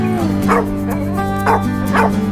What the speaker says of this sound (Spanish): No sé por qué ladra este ladrador.